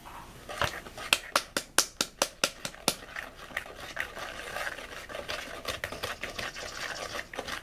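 Cookie dough with flour and Dragibus candies stirred in a bowl, a quick run of sharp, regular scraping knocks, then looser, softer stirring with faint background noise.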